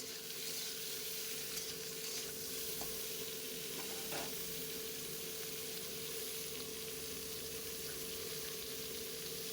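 Small potato slices fry in hot oil in a pan, a steady close sizzle with occasional scraping stirs, salt sprinkled on top, continuous with no talk.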